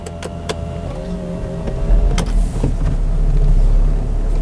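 A 2007 Mercedes-Benz ML280 W164 engine is started: a few sharp clicks come first, then the engine catches with a low rumble that settles into a smooth, steady idle.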